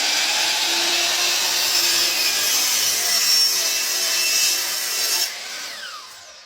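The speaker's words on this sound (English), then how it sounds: "Turn the saw on, and then we'll cut our first miter." A power miter saw cuts through treated wood for a sliding deck gate, a loud steady whine and grinding bite running for about five seconds before the blade winds down and fades.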